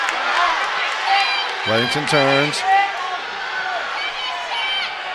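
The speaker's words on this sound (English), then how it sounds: "A lot of the Andover crowd around me, so you're going to hear them. They're asking for a stall call." A crowd of Andover fans shouts and cheers at a high school Class 5A wrestling final, a steady loud roar throughout with a commentator's voice speaking briefly in the middle.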